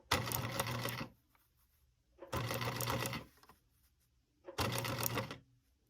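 A vintage sewing machine stitches a tight curve on a quilt in three short bursts of rapid, steady whirring and clacking, separated by pauses, close and clear.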